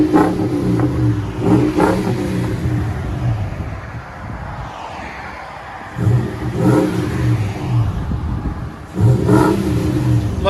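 A 2006 Toyota Tundra with a 4.7L V8 and Borla Touring exhaust revs repeatedly, loud throaty bursts rising and falling over a steady idle, with no talking.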